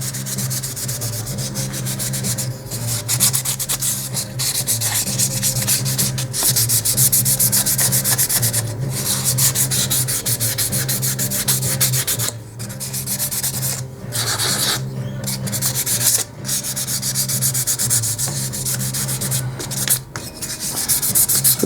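Penetrol finish being wiped onto a wooden knife handle with a cloth, close rhythmic rubbing strokes repeating steadily with brief pauses, no voices.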